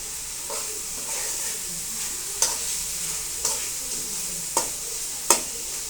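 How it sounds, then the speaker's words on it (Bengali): Hilsa fish with taro is stir-fried in a pan, giving a steady low sizzle punctuated by four or five sharp spatula knocks against the pan at uneven intervals. "মাছটা দিয়ে এখন এটা কিছু সময় মাছটা কষিয়ে নেব।"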